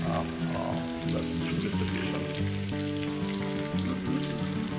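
Onions dumped into a hot pot of oil for plov fry with a steady, loud sizzle and hiss, broken by light stirring and clinks, in a cooking-class kitchen.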